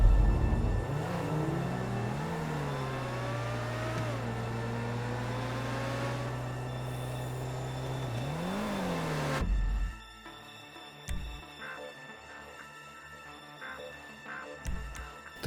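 A car driving in the video game GTA V, its engine droning loudly with rising and falling revs over several seconds, then cutting off abruptly into quiet, scattered background noise.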